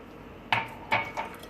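Tabbouleh being tossed with lemon juice and olive oil in a bowl, giving three soft clinks of a utensil against the dish at uneven intervals over a quiet background.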